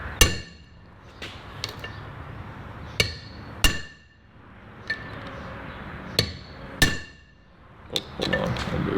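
A hammer strikes a transfer punch into a brake rotor, sharp metallic clinks landing one at a time at irregular intervals, close and loud, with quieter workshop noise in the gaps.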